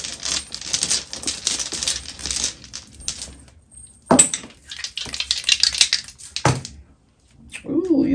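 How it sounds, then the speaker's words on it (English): Two Lenormand dice rattle and clatter onto a hard surface in several bursts of rolling clicks, close and fairly loud, with no talking. "Gonna get two dice out to look at your future energy."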